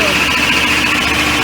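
A machine runs steadily while its brake is applied, giving a continuous close engine-like drone with faint high tone and little change over the short stretch.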